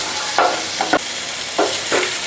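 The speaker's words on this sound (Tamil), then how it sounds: "தக்காளி நல்லா வதங்கிடுச்சுங்க" Tomatoes sautéing in a pan, a loud close sizzle with several quick scraping stirs of a spatula at uneven intervals, and no talking.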